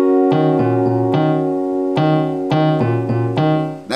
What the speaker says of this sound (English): Switches into the second chord, which sounds like this.